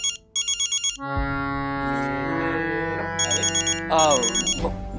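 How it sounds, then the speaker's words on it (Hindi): An electronic ringtone chirps in repeated bursts, cutting in over sustained music with a droning accompaniment, then returning twice more near the end. "एक अर्जेंट फोन आया, बात करके आता हूँ।"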